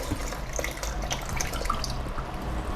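Tap water runs steadily into the tub of a twin-tub washing machine, a continuous splashing rush with small drips, close and fairly loud with no talk.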